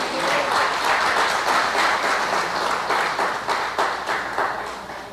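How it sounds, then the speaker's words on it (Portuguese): A church congregation claps and applauds continuously, a dense, steady wash of many hands filling the room for the whole stretch, with faint voices mixed in. "Será que você pode dar uma salva de palmas ao Senhor?"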